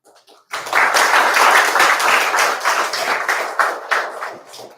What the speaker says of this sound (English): so these claps makes me more nervous